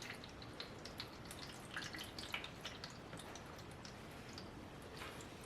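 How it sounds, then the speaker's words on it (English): Warm water is poured into a plastic seed starter tray, giving a quiet, continuous splashing and dripping patter with small irregular drops, close by and with no talking. "We're going to pour some water in this tray."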